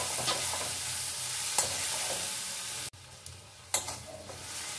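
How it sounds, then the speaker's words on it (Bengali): Chopped onions with salt sizzling in a pan and stirred, a steady close frying hiss broken by scraping spoon strokes and a brief pause, no speech. "পেঁয়াজটা এইভাবে ভাজা হয়েছে"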